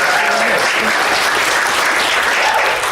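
A live audience claps loudly and continuously, a dense, even burst of applause that holds steady from start to finish with no speech over it.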